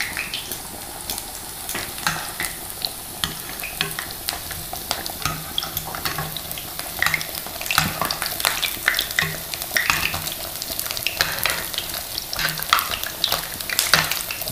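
Food fries in oil in a pan with a steady close sizzle and crackle, broken by frequent stirring scrapes and utensil clinks, no voices.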